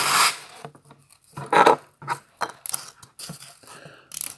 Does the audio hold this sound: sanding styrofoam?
yes